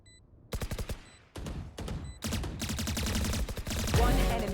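Rapid bursts of automatic gunfire in a competitive shooter game match, loud and close, with short pauses between volleys, then a denser sustained stretch and a final sharp shot.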